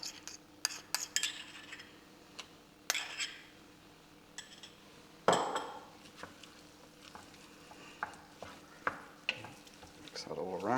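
A spoon stirring beef casserole with herbs, bay leaves and tomato paste in a pot, soft sizzling under intermittent scraping and sharp clinks of utensil on metal, near and fairly quiet, with a short spoken remark.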